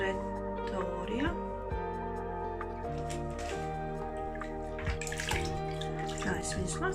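Canna rhizomes are washed by hand in plain water, with sloshing, squishing splashes that recur through the clip under a continuous musical backdrop.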